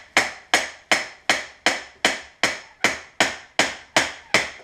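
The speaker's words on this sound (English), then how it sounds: "I'm only using the handle of this hammer." A steady series of about eleven sharp metallic-wooden taps as a hammer handle knocks tubing together, evenly spaced and close, each ringing briefly before the next.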